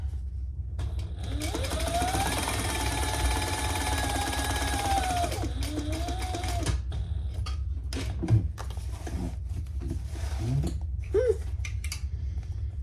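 A sewing machine stitches across the bottom of a diaper backpack with a loud, steady whir for several seconds. It then stops, followed by scattered handling clicks and a short burst of stitching.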